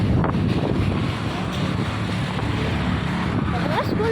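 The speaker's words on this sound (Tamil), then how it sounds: "காற்று வேற இப்படி அடிக்குது." Wind buffets a microphone outdoors, making a steady low rumble with gusty swells that fill the whole stretch, with no other clear sound on top.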